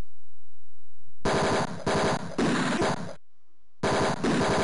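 Loud, continuous bursts of machine-gun fire in the video game Mean Streets, three long rattling volleys broken by a short gap before a final burst, with no voices.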